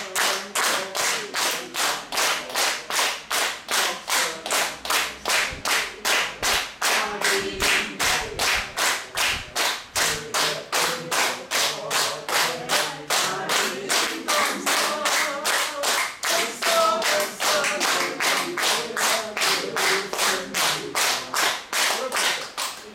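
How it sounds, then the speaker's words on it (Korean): An audience at a lecture claps hands in a steady, rhythmic unison beat for over twenty seconds, loud and even, with faint voices underneath. "박수 한번 치워봅시다."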